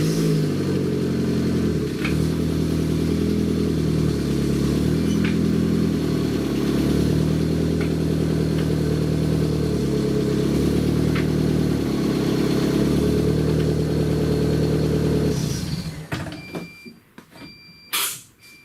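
A 2001 Kia Rio engine, running after a clutch replacement, idles loudly and steadily up close with small rises in pitch, then cuts off near the end, leaving a few scattered clunks.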